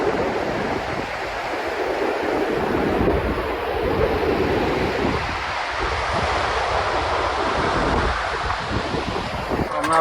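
Strong sea wind buffets a phone microphone on Bakkhali beach, a loud steady roar of gusts with crashing surf blended beneath, continuous throughout with no speech.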